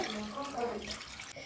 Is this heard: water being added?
yes